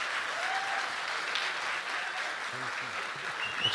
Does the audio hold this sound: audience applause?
yes